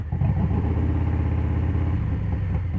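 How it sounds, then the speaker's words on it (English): A Harley-Davidson Street Bob 114 with Stage 2 upgrades and aftermarket exhaust rumbles up close, a loud, rowdy, lumpy V-twin idle with an uneven thumping beat and no voices. "I've got the exhaust closer to me here, but definitely rowdy."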